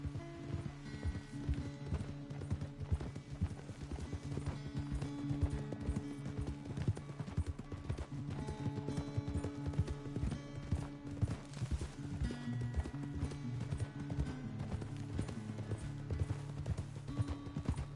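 Horse hooves gallop in a steady, rapid clip-clop rhythm through the Red Dead Redemption 2 prologue, loud and continuous for the whole stretch, with a brief whinny and little talk over it.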